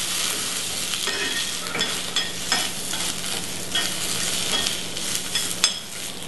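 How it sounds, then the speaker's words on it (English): Pole beans and field peas being stirred in a hot, sizzling pan, with steady frying hiss and repeated scraping strokes of a utensil, close and continuous with no voices. "So we're just going to kind of stir these around a little bit."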